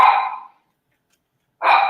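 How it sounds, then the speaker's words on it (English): A small dog gives two short, sharp barks separated by a second of silence, close and fairly loud indoors. "She's barking at him."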